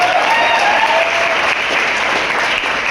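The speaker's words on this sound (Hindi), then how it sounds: "एक बार जोरदार ताली दीजिए" A crowd claps loudly and continuously at a Smart Value family security seminar, a dense, even wall of applause with no gaps and a faint voice or two underneath.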